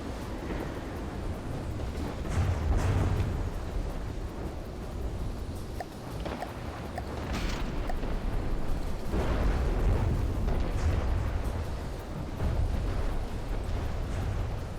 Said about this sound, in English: At the very least, the flak explosions are doing damage